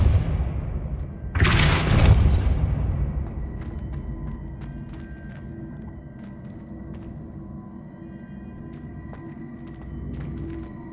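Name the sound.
Depulso spell blasts in video game Hogwarts Legacy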